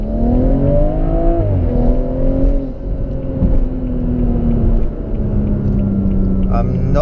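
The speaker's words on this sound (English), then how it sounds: "It seems like it wasn't holding the RPM but just started spinning the rear tires." A car engine revs loudly during a launch control attempt in Sport Plus mode, its pitch climbing and dropping as the rear tires spin, under a steady cabin rumble.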